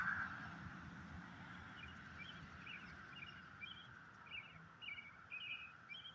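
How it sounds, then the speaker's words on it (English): A robin sings in faint, distant bursts of chirping phrases that grow more frequent toward the end, set against a steady low background hum. "That's a robin."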